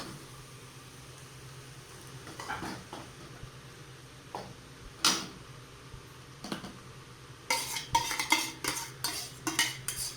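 Tomato paste being stirred into an egg curry in a pan, with scattered scraping and clinking of a utensil against the pan, sparse at first and growing busier near the end.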